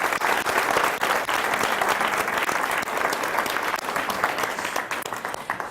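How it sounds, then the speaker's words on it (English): An audience at a hospice anniversary event applauds Dr. Perez with steady, dense clapping from many hands throughout, full and even with no break. "Round of applause for Dr."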